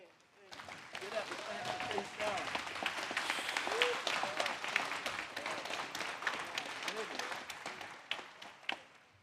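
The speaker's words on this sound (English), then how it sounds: "if y'all don't stand up and clap for Tayshawn" Sustained audience applause at a high school graduation ceremony, a dense wash of clapping from a large crowd that swells and holds for several seconds, with scattered cheers and voices mixed in.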